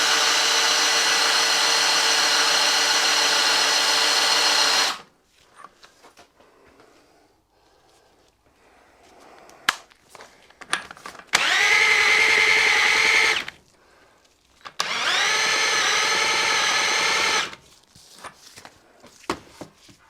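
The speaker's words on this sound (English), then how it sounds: "I've got the drill on full chat." A high-pitched electric drill whines at full speed for several seconds, stops, then runs in two more sustained bursts separated by clicks and handling noises.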